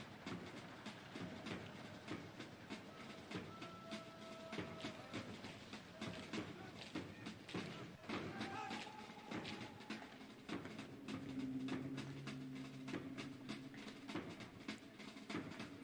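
An armored tank train rolls along in the video game Pathologic, a continuous rumbling clickety-clack of wheels on rails with rhythmic clatter and occasional tonal whines, steady and moderately loud throughout.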